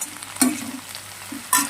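Sliced onions frying in a pan for an okra (lady's finger) stir-fry, a soft steady sizzle with two brief louder bursts of stirring or crackle, close by with no talk.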